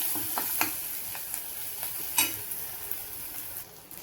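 Onion and tomato fry in a pan for a dry Bombay duck chutney, a soft steady sizzle broken by several scraping stirs of a spoon.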